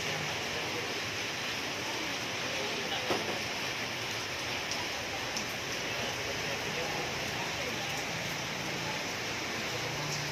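Steady rain pours during the rainy season in Olongapo City, Philippines, a dense, even hiss running unbroken throughout with faint background voices beneath.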